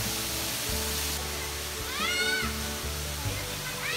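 Broadband rushing of a waterfall on a family hike, heard from close by behind the falling water, steady and loud throughout, with high sweeping tones and murmuring voices beneath the roar.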